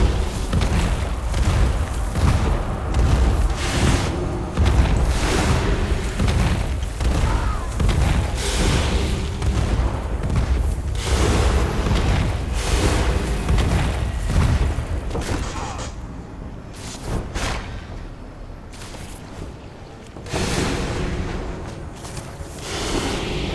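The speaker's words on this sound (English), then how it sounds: "He pulls out a shotgun, he pulls out a pistol." Repeated shotgun and pistol shots in World of Warcraft, a dense series of punchy booms and cracks fired in quick irregular succession, loud and continuous, thinning slightly toward the end.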